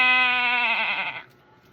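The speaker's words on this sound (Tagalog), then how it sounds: "Hala, kambing." A single goat lets out one loud, harmonic, wavering bleat lasting about a second before fading into quiet.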